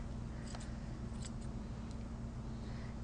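Steady low electric hum with a few brief, crisp snips of straight scissors cutting a Schnauzer's hair scattered through it, during dog grooming.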